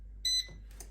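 One short, high-pitched electronic beep from an air fryer cooking breaded pork chops, clear against a low hum, followed by faint rustling.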